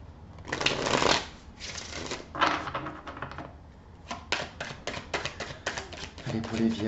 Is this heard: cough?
no